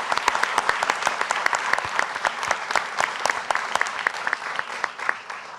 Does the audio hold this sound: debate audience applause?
yes